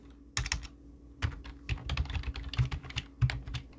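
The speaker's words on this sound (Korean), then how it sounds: "여기다가 소스 코드를 입력합니다" Source code is typed on a computer keyboard in a run of close, crisp key clicks, irregular and fairly quick, over a faint steady background hum.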